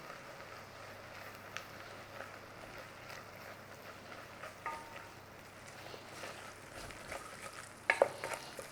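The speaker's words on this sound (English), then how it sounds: "Cook out the rawness of the flour. We're making a roux, obviously." Flour stirred into hot fat for a roux, a soft, steady sizzle with faint scraping of the spoon, fairly quiet and close, with a brief sharper clink near the end.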